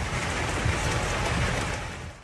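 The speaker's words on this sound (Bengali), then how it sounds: "সৌদি আরবের বিভিন্ন অঞ্চলে ভারী বৃষ্টিপাত হয়েছে" Steady, dense heavy rain pouring down during flooding in Saudi Arabia, a broad continuous wash of noise that holds level before easing slightly at the end.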